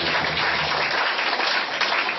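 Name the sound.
applause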